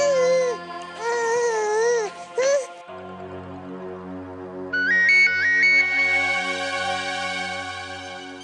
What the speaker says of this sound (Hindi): राज का फोन है।